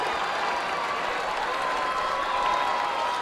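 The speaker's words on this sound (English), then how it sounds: "Even the Boys Eye people applauding, which is great for rugby, schoolboy rugby." Steady, dense applause from a crowd of spectators at a schoolboy rugby match between two school first XV sides, a continuous roar of clapping held at a constant level throughout.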